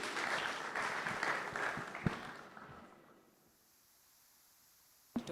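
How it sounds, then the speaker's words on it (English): Audience applause at a film and TV festival opening ceremony, a crowd clapping steadily for a few seconds before fading out into near silence, ending with a sudden short knock. "a round of applause for Vanessa as she comes on stage."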